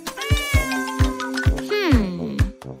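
A cat meows repeatedly, short close cries between soft thumps, rising into a longer drawn-out yowl near the end.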